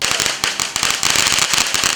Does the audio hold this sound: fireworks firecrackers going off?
yes